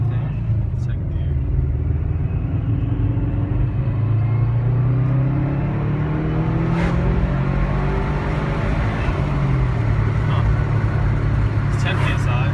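A turbocharged car pulls away gently through first gear and shifts into second, its engine a steady loud rumble with rising and falling tone across the run, and people talking over it.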